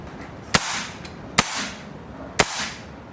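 A BRK Ghost high-power air rifle, tuned to its minimum power setting, fires JSB pellets in three sharp, loud, close cracks spaced about a second apart, each followed by a brief fading hiss.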